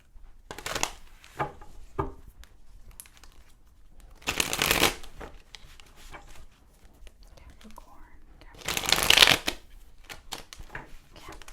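Tarot cards being shuffled in three crisp, riffling bursts, close and clear, with a soft, whispery voice murmuring quietly in the pauses between.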